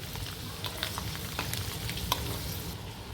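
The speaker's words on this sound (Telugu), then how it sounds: "సన్నగా కట్ చేసి వేశాను ఇప్పుడు ఇవి కాసేపు వేయించుకుందాం" Thinly sliced garlic frying in a pan for a tomato and green pea curry, giving a steady low sizzle with soft scattered crackles and a few brief stirring clicks throughout.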